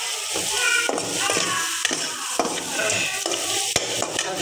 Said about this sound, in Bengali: কুচানো পেঁয়াজগুলো, আমি এতেই ভেজে নেব